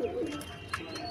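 A Kalanka pigeon sitting on its eggs gives a low, soft coo, close by and fairly faint, with a small flutter or tap partway through.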